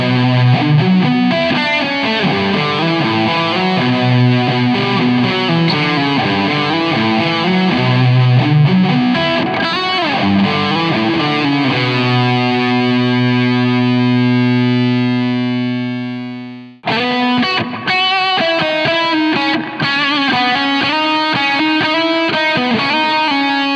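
An electric guitar with humbucker pickups plays driven, distorted chords and riffs through a Fender '68 Deluxe Reverb amp, loud and continuous with a sustained ringing chord that fades before playing resumes.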